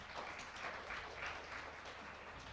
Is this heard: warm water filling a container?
no